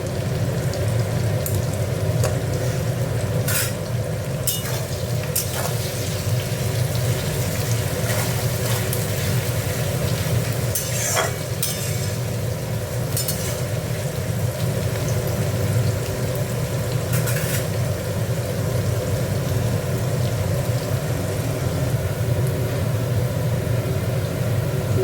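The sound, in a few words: frying onions in a pan for mochar ghonto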